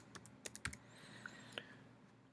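Quick bursts of keystrokes on a computer keyboard as a short report name is typed, a handful of faint, close clicks with a brief pause midway, in an otherwise quiet room.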